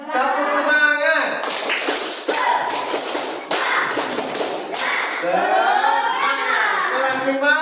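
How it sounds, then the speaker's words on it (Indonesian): A primary school class claps together, a brief run of sharp overlapping claps and taps under loud children's voices and chatter in a classroom. "tepuk tangan untuk semuanya"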